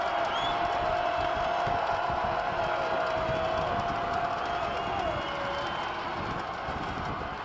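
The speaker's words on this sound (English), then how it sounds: "Crowd is booing here at the tub." A large football stadium crowd at a Villanova versus Delaware college game makes a sustained, loud rumbling roar that could be booing, continuous and dense throughout, with faint commentary voices mixed in.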